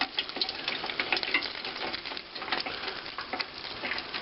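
Cornish hens fry in hot oil with rosemary and thyme, giving a steady, dense crackling sizzle with bursts of popping that continues close and loud throughout, with no voices.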